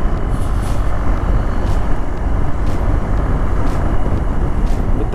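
A BMW R1200GS motorcycle powers out of a corner without downshifting, giving a steady, loud, rumbling engine drone mixed with heavy wind rush, with no speech over it.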